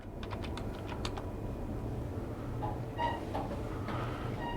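Rapid typing on a computer keyboard, a quick burst of clattering keystrokes at the start followed by steadier, softer key presses over a constant low background hum.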